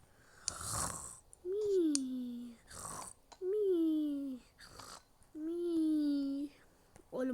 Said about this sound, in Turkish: horlama sesi ta buraya gidiyor ya